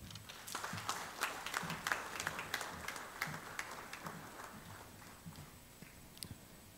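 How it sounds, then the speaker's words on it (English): Audience applause at a college ceremony marking an agreement between two colleges, a steady spread of clapping from many hands in a hall, moderately quiet and thinning toward the end. "another round of applause, please, to Mr. Sujit and that wonderful presentatio"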